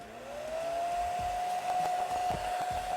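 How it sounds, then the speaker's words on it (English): A hair dryer blows steadily on a camera skin being laid down, a loud continuous whoosh with a high whine that rises as it spins up, plus faint handling knocks underneath. "Use your blow dryer."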